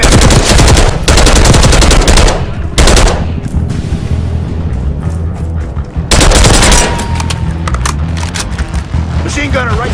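Heavy combat gunfire from the Call of Duty: Black Ops 6 campaign, loud sustained automatic bursts and booming shots in dense waves with short lulls, while voices shout under the battle.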